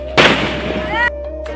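Firecrackers bought to celebrate an occasion, with one sharp burst near the start followed by a ringing, fading tail and a steady tone beneath.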